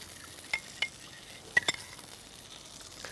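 A mixture with olive oil and pimentón being stirred, with a few light clinks and scrapes of a utensil against the pan, close and faint, over a low sizzle, with no talking.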